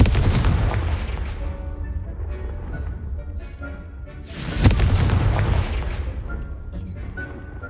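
A Confringo spell explosion in the game Hogwarts Legacy: a loud, deep boom with rumbling blasts, the sharpest burst near the middle, under faint background game ambience.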